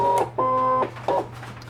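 Brother ScanNCut cutting machine feeding in a sheet of paper: two close, steady motor whirs with tonal hum, the first about half a second and a shorter second burst, over a constant low mains-like drone, no talk.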